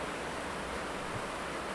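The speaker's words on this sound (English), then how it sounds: "It's raining really hard here in Florida." Heavy rain pours down steadily in Florida, a dense, even hiss of broadband noise that stays constant and fairly loud throughout with no voices or breaks.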